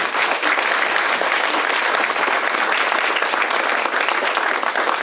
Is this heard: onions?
no